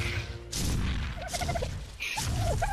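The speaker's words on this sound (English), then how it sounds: "Little dodo bird." A dodo bird in the game Ark gives a series of short gobbling, turkey-like clucks in two or three bursts over steady outdoor ambience, fairly close and moderately loud.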